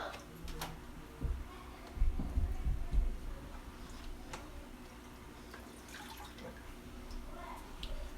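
Water is scooped and poured from an aquarium tank into a container, giving close splashes and trickles that swell around the middle before settling into faint dripping.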